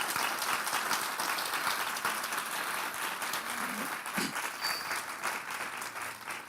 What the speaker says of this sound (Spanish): Dele un fuerte aplauso al Señor en esta mañana.